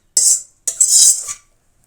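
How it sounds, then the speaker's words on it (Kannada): Roasted onion, garlic and green chillies tipped from a pan into a mixer jar in two short scraping, rattling bursts, close and clear with a brief pause between. "ಇವಾಗ ಚೆನ್ನಾಗಿ ಹುರಿದಿದೆ, ಜಾರಿಗೆ ಹಾಕ್ಕೊಂಬಿಡೋಣ"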